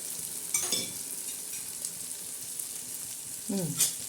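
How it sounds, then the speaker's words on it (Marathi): Green chillies and onion frying in a hot pan, a soft steady sizzle with two brief scraping stirs, fairly faint and with no talking. "आता हे आपण याला चांगला तडका दिलाय"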